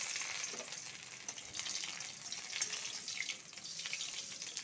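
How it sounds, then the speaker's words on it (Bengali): Garlic and dried red chillies fry in hot oil for a Bengali dhenki shak dish, giving a soft, steady sizzle and crackle throughout with no talking. "রসুনটা লাল লাল করে ভেজে নিব।"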